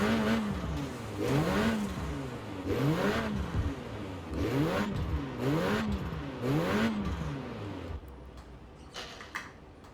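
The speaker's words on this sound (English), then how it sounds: "being a little Renault 4-cylinder turbo, it sounds really good here in Horizon" A Renault Clio R.S. 16 concept with a small four-cylinder turbo engine in Forza Horizon 4 revs repeatedly, rising and falling in a series of throaty, rasping pulls with gear shifts, loud and close, tapering off toward the end.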